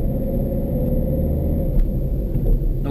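A car accelerating in traffic while driving in Spain, heard from inside the cabin as a loud, steady low engine rumble with a slight swell toward the end.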